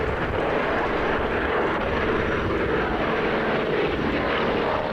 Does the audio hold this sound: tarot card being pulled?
no